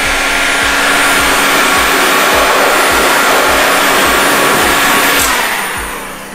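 A heat gun blowing hard while heating paint protection film on a car bonnet, a loud steady whooshing roar with a rhythmic low pulsing, close by, easing off at the end.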